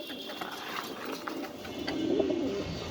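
American Fantail fancy pigeons, a pair sitting on eggs, coo softly nearby, with a low rolling coo rising near the end over a faint background hum.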